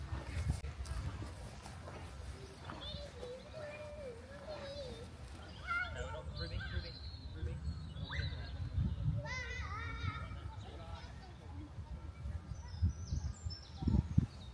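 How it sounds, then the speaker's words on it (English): Birds sing and chirp in a springtime park in scattered, moderately distant bursts, mixed with children playing and a person talking over the ambience. "the birds are singing."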